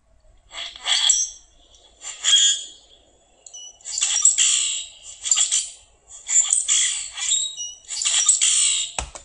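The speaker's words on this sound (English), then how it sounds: "a very non-musical bunch of squawks and rattles and squeaks is typical of blackbirds" A common grackle repeats harsh, rattling squawks and squeaks in uneven bursts, close and fairly loud, with short gaps between calls.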